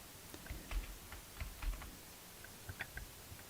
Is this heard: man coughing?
no